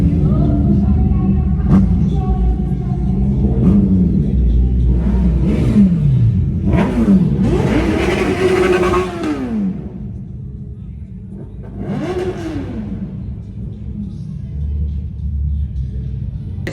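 A red two-door BMW M2 at a modified car and superbike meetup revs its engine in several rising bursts, loud and close, with crowd noise and voices underneath.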